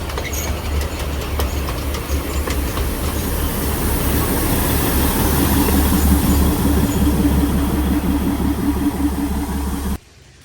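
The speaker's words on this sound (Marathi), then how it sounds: "आम्हाला जाताना परत टॉय ट्रेन दिसली आहे." The Matheran toy train, a narrow-gauge hill railway, rumbles past close by with a steady engine drone and rolling wheel noise that builds for several seconds, then cuts off abruptly near the end.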